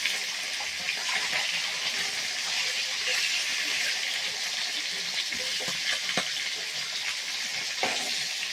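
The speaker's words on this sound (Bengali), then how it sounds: "এবার আমি এক এক করে মাছের মাথাগুলোকে তুলে ফেলছি।" Fish heads frying in hot oil give a steady, close, loud sizzling hiss that runs unbroken throughout, with occasional faint pops and light clatter.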